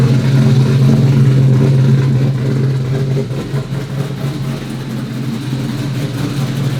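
The engine of a twin-turbo C8 Corvette runs at a loud, steady idle with a deep, droning rumble that eases slightly partway through.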